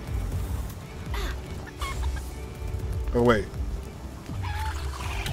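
A chicken creature in the video game Palworld gives a brief burst of clucking and fowl calls amid game noise, with a player talking over it.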